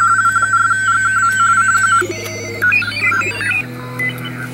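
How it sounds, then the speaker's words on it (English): Warbling two-tone radio teletype data signals chirp and shift over radio hiss on the 40-meter band, switching between several rapid tone patterns in quick succession, received on a homebrew receiver. "We can also hear some digital signals, like radio teletype."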